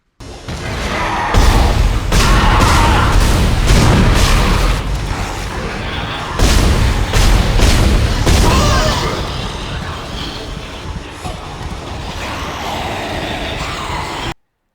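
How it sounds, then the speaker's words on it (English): The original plasma cutter weapon in the Dead Space video game fires with loud, heavy, booming blasts, a beefy, mechanical roar that sustains across the clip before cutting off abruptly. "The original plasma cutter has a beefy sound, doesn't really sound like a weapon firing off,"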